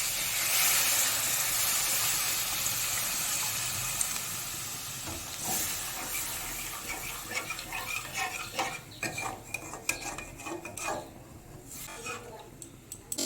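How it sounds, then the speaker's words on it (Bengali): Water poured into a pan of fried spice paste for a shrimp and pointed gourd dorma curry, giving a loud sizzling hiss that gradually fades into gentler bubbling and faint clinks of a spoon. "মশলাটা ভালো করে কষানো হয়ে গেছে, এবার পরিমাণ মতো জল দিয়ে দেবো।"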